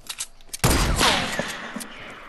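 Gunfire in Fortnite: a sudden loud blast at about half a second sets off a dense, ringing burst of shots that decays slowly, with a few quieter pops scattered before and after.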